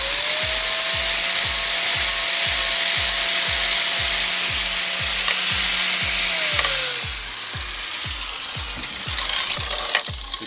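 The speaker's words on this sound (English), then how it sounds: "you can come in with your grinder." An angle grinder fitted with a flat disc works a welded steel joint on a sculpture, giving a loud, continuous whine with rapid rhythmic ticking, then the motor tone drops as it winds down near the end.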